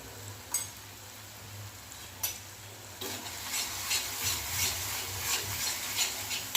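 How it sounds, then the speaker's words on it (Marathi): Salt and turmeric are stirred into a frying green tomato curry as oil begins to separate, with a spatula scraping in repeated rhythmic strokes over a low sizzle, close and unaccompanied by speech. "आता थोडंसं आपल्याला मला भाजून घ्यायचं आहे साईडनं छान तेल फुटायला लागलेलं आहे"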